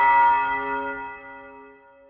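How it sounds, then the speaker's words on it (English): A church bell tolls once, loud and resonant, its ringing hum slowly fading over a couple of seconds with no voices. "the bells tolled in the darkness"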